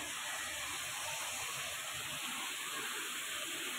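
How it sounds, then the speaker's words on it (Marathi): Continuous dense sizzling hiss of mustard and cumin seeds spluttering in hot oil, steady and fairly loud throughout, with no voices. "आता तडतडायला आपण मोहरी टाकूया."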